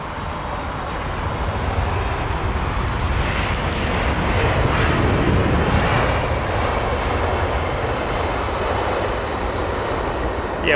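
An Emirates airliner rolls along the runway, its jet engines a steady broadband roar that swells slightly as it draws closer, continuous and fairly loud with no talk over it.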